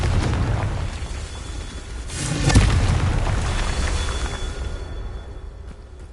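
A Confringo fire spell explodes in the Hogwarts Legacy video game, a deep rumbling boom that swells to a burst midway and then slowly fades out, with no one talking.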